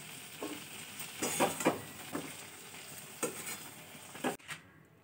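Fried flat beans being lifted out of a pan of hot oil: soft sizzling under scattered scrapes and clinks of a spatula against the metal pan, fairly quiet and close, ending abruptly.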